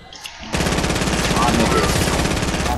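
After a half-second pause, rapid automatic gunfire erupts in Fortnite, a close, loud stream of shots with a fast, even rhythm that runs without a break to the end.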